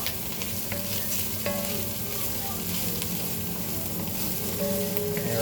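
Minced garlic fries and sizzles in a hot pan for bolognese while being stirred, giving a constant close crackling hiss with occasional scraping stir strokes, and no talking over it.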